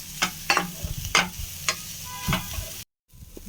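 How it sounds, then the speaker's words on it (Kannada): Green poha with peas, onion and green paste being stirred in a pan: a series of scraping spatula strokes with a soft sizzle underneath, close and fairly quiet, ending in a brief silence. "ಬಟಾಣಿ, ಈರುಳ್ಳಿ ಮತ್ತು ಪೇಸ್ಟ್ ಎಲ್ಲ ಚೆನ್ನಾಗಿ ಮಿಕ್ಸ್ ಮಾಡೋ ಥರ ಮಿಕ್ಸ್ ಮಾಡಿಕೊಂಡ್ರೆ ಆಯಿತು"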